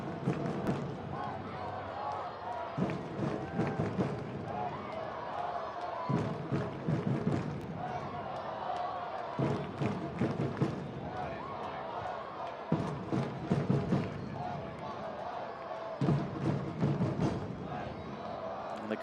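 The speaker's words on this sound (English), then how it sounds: "And the crowd's still involved." Soccer stadium crowd at an Oakland Roots versus Pittsburgh Riverhounds match, a distant steady roar with rhythmic chanting and drum-like thumps repeating in bursts under commentary.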